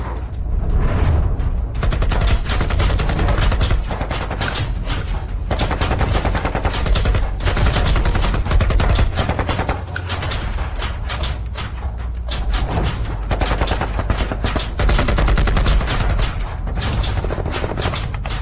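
Gunfire rattles in an animated fight as bullets are fired at a muscular fighter, a loud, continuous barrage of rapid shots and impacts with mechanical clatter, dense and close throughout.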